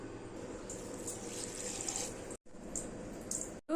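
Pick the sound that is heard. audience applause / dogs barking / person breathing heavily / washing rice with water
washing rice with water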